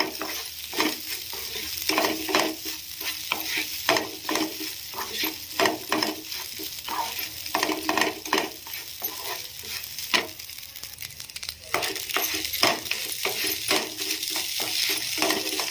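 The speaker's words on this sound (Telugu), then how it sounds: "ఈ మొత్తాన్ని లో ఫ్లేమ్లో ఒక 2-3 మినిట్స్ మంచిగా ఫ్రై చేసుకోవాలి." Crumbled leftover idli frying on a low flame for upma while a spoon stirs it, giving a steady sizzle broken by repeated scraping and metallic clinks against the pan, close up and without speech.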